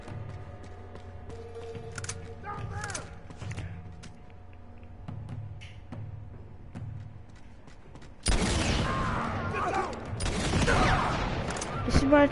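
A grenade explosion and gunfire in Uncharted, several seconds of quiet thumps and taps, then a sudden loud blast followed by a dense, noisy stretch of shots and debris close by.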